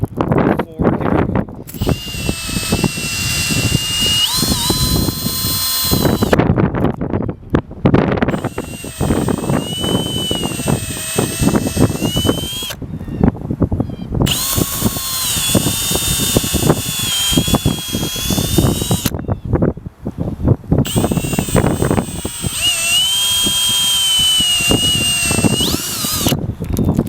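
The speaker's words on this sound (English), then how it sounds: "Now I'm going to just drill out the floor here." A power drill bores through the floor during a Starlink satellite dish installation, several long whining bursts close to the microphone separated by short pauses.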